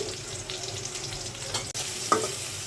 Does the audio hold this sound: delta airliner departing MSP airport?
no